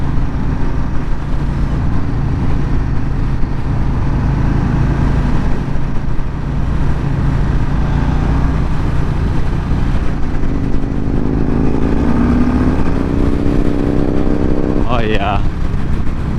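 A 2021 Harley-Davidson Street Bob motorcycle rumbles steadily throughout, a continuous engine drone under wind, with a brief rising whine near the end; a rider talks over it.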